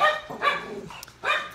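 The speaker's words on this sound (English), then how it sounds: "Max, I want you to stop barking." A pet dog barks in a few sharp bursts close by, with short pauses between them and no talking over it.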